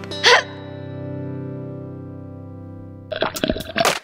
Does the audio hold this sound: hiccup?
yes